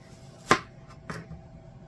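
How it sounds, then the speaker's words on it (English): Knife slicing an onion for a casserole: two separate crisp cuts about half a second apart, the first louder and sharper, close-up in an otherwise quiet kitchen. "I'm going to cut that onion in half and slice it from that"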